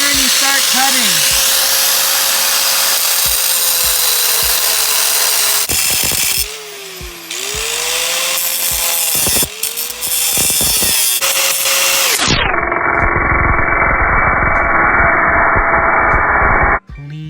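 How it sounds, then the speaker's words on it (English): An angle grinder cuts through a car exhaust pipe just ahead of the muffler, a loud, steady, close whine that shifts in pitch as the disc bites and eases, running continuously before dropping near the end. "Next, get your angle grinder and you start cutting."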